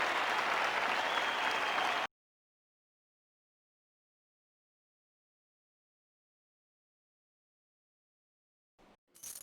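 A roaring arena crowd applauds in the martial-arts game Jade Empire, a dense burst of clapping for about two seconds that cuts to silence. A brief faint sound returns near the end.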